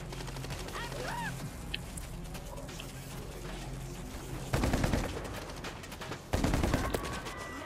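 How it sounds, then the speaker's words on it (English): Assault shotgun blasts in the PS5 video game WWZ: Aftermath, a couple of heavy booming shots over a busy background of game noise and faint creature cries. "That assault shotgun made pretty quick work at that fence"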